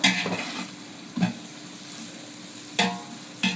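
Biryani masala sizzles steadily in a pan while a spoon stirs it, with a few louder scraping strokes against the metal standing out from the continuous close frying hiss.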